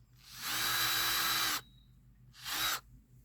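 A handheld power drill runs in two bursts, a long steady whine of about a second and then a shorter one, close by and loud against a quiet background while a drip irrigation line is being fitted.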